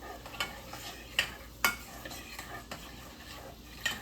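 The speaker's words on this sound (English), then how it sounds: "now I'm going to put my beans in" Beans tipped into a pot of bacon chili and stirred: a few scraping spoon knocks and clinks against the pan over a faint background sizzle, no talking.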